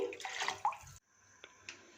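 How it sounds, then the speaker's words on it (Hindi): Water splashes and pours into a pot of chickpeas being cooked for street-style Kathiawari chole. A loud rushing pour lasts about a second and then drops to quieter trickles and drips, with no voices. "आधा लीटर पानी मज़ीद इसमें शामिल कर देंगे।"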